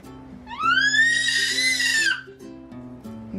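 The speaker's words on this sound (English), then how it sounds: "that's a scream of joy" A child gives a long, rising high-pitched scream of joy from across a room, lasting over a second, with a steady electronic hum underneath.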